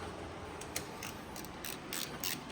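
A socket wrench ratchets in short bursts of quick clicking while tightening Power Latch bolts, fairly quiet and close, with no talking.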